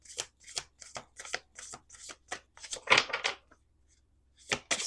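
Oracle cards being shuffled up close, a series of quick riffling bursts with short pauses between them, crisp and fairly quiet in a silent room.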